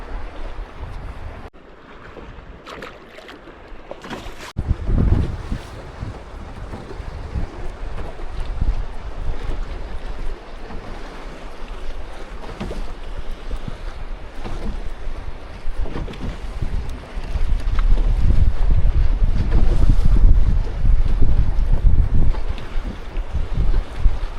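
Wind buffets the microphone on a boat fishing along a rocky point at Lake Mead, with water lapping and a steady rumble that grows louder toward the end, no talking.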